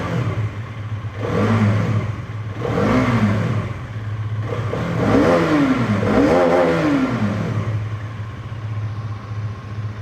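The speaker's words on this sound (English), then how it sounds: "let's hear the exhaust note of both the motorcycles" A Hero Karizma XMR motorcycle's exhaust idles and revs, with three or four loud, sharp throttle blips rising and falling above a steady low idle thrum, close by and with no voices.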